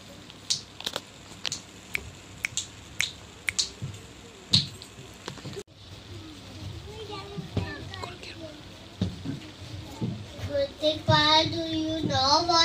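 A child snapping fingers in a school classroom, a run of sharp, fairly close clicks at an uneven pace, followed by a child's and adult's voices talking.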